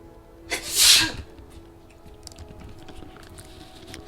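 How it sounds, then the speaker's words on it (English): One sharp, loud sneeze bursts out near the microphone during a Skyrim gaming session, followed by quiet room noise and faint clicks. "I apologize for that sneeze there"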